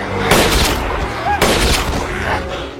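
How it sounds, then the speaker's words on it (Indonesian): Gunfire in a zombie film, two loud close shots with ringing echoes that fade before the next blast, no voices. "langsung menembak satu persatu"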